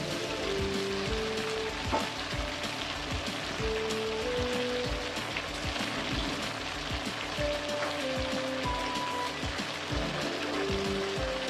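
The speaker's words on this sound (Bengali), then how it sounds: "এই জন্য মাছের টাটকা তেল দিয়ে তরকারিটা একটু করবো" Fish curry cooking in fish oil, a steady crackling sizzle throughout with occasional soft stirring knocks, close and even in level.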